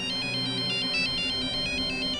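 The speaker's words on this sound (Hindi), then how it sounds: "उसने सबसे पहले मुझे ही कॉल किया था।" Phone ringtone of an incoming call in the Hindi crime drama Crime Patrol: a repeating electronic melody of short, bright tones, steady and fairly loud over a faint low background, with no talking.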